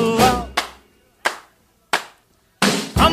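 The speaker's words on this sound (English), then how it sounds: "clap your hands real loud" Sharp, percussive hand claps sound at a steady tempo, spaced a bit over half a second apart, between bursts of singing in a Las Vegas stage show. They sound like a single close source rather than a large crowd.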